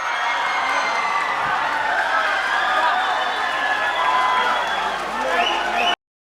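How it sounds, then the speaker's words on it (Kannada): Steady, loud applause and cheering from an audience at a Jain devotional singing competition finale, a continuous wash of clapping with crowd voices that cuts off abruptly. "ಜೋರಾದ ಚಪ್ಪಾಳೆಯೊಂದಿಗೆ"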